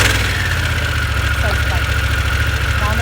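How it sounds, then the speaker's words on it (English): A 2021 Harley-Davidson Pan America motorcycle engine running at idle after a one-touch start, a close loud steady low throb with a fast even pulse throughout. "Kickstand does need to be up in order for the bike to start."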